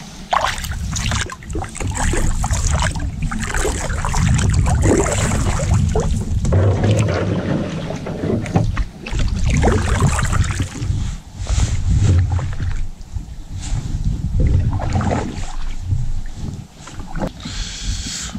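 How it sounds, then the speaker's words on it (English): Paddle strokes and water splashing from a boat on a wild river, a steady, close wash of water sound with wind across the microphone and no talking. "We've been paddling for a solid hour and 20 minutes"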